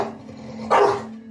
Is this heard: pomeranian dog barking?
yes